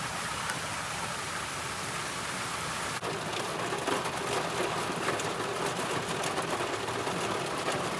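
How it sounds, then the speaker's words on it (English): Heavy rain hammers an RV, a dense, loud, unbroken roar of drops drumming on the roof and surfaces, with a slight intensification partway through. "Oh, y'all, it is raining hard out here."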